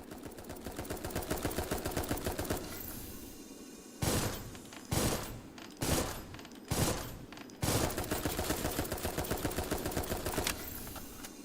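Gunfire in the video game Dolls Nest: a dense stream of rapid automatic shots, broken by a few separate loud bursts in the middle before the steady firing resumes, loud and close with no talking.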